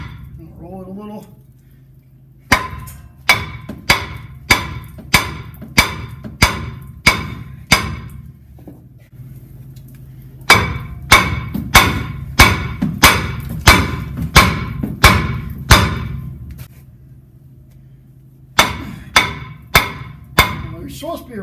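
A hammer strikes brake parts on a 2011 Ram 2500 during a front brake pad, caliper and rotor job, in three bursts of rapid, loud metallic blows separated by pauses.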